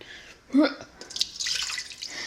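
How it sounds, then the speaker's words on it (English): Half a gallon of water for homemade kompot splashes into a container, starting with a brief gurgling glug and then settling into a steady pouring stream up close. "I've got half gallon of water here. The recipe I'm following, if I can even pour this in here without spilling it."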